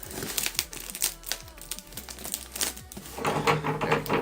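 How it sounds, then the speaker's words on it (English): Bubble wrap packing around a new LG G7 phone crinkles and rustles close by in irregular bursts of crackling, with small pops and scrapes; no one speaks. "definitely a lot of bubble wrap in there."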